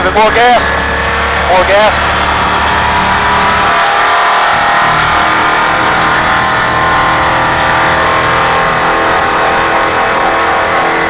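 A car accelerates steadily on a driving course marked with cones, its engine note holding loud and sustained, while an instructor's voice calls out directions over it.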